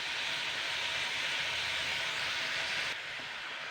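Mixed winter vegetables frying in a wok and releasing their own water, a continuous soft sizzling hiss that drops slightly in level near the end, with no voices.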